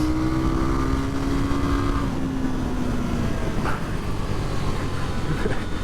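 A KTM 990 Duke R motorcycle engine is revved hard on a cold, damp road, a loud, continuous snarl with a rising then falling pitch sweep and no talk.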